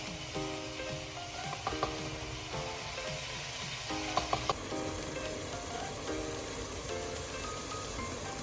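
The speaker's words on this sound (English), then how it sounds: "I'm gonna let the vegetables cook and for the Maggi to enter with the vegetables to make it good" Vegetables cook in a pot of soup with Maggi seasoning, a soft continuous sizzle and bubbling with a few faint clinks, steady and moderately quiet.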